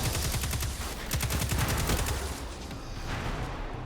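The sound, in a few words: grenade shot in Destiny 2 video game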